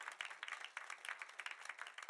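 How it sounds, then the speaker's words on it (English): A church congregation claps at a missions convention in Wales, a faint, dense patter of many hands continuing steadily without talk. "now you can clap for that"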